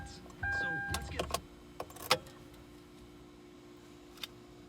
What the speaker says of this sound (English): I gotta roll my window down